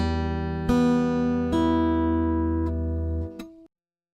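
Acoustic guitar fingerpicked over the sound hole, a few plucked notes struck one after another and left ringing into a sustained chord that fades out, clear and close with no talking.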